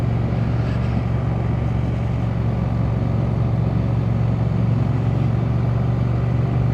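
A Triumph Speed Twin 900 motorcycle engine runs with a loud, steady, even drone and no clear rise or fall in revs.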